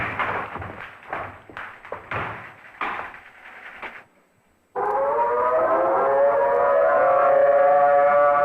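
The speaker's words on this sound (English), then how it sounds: "the civil defense sirens are sounding in earnest" A civil defense siren sounds a tornado warning during the 1978 Cincinnati-area killer tornado outbreak, rising from a brief hush into a loud, sustained wailing tone that holds steady after a stretch of heavy thumps and clatter.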